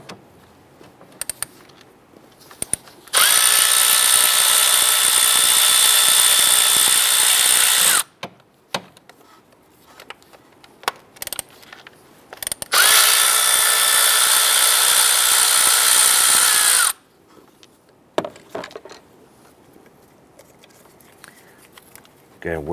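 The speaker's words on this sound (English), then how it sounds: "You want to get to loosen those bolts and remove them." A power tool loosens the 10mm ignition coil bolts on a 2005-2010 Chrysler 300, whirring loudly and up close in two sustained bursts of about five seconds each, with quiet clicks and handling noises between them.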